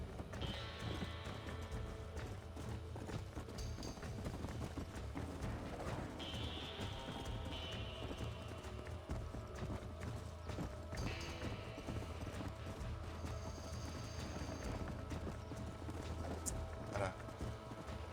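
A horse gallops in the Red Dead Redemption video game, with steady rhythmic hoofbeats throughout, occasional high jingles and game effects, and no talk.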